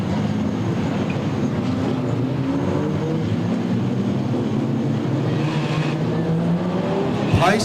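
Modified production race cars roar continuously at Lismore Speedway, a loud, steady engine drone filling the air with pitch sweeps as the cars pass around the oval, without a break.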